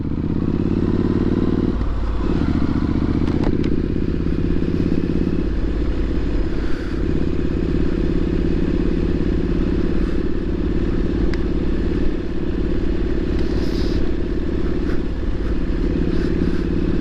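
A Triumph SS 900 motorcycle ridden along a straight, bumpy road, its engine droning loud and steady throughout with rattling clatter and wind roar, no talk.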